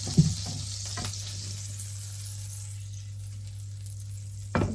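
Butter and olive oil fry in a pan ahead of cooking fish, giving a steady low sizzle that stays even throughout, with a couple of faint clinks of stirring near the start and the end.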